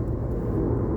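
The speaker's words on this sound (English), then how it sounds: "Loud airplane." A loud airplane flies over a campground at Bull Run State Park, a steady low roaring rumble that fills the whole short moment without any break.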